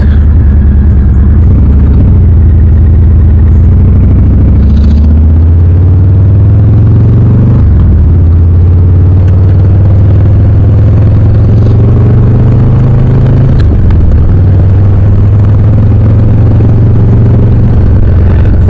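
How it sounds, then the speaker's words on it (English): A 2023 Harley-Davidson Low Rider S with about 5,000 miles sits running close up, its deep, loud rumble idling and swelling in pitch with gentle rises in revs, then settling back, with no speech. "The ultimate motorcycle right here. Harley Davidson Lowrider S."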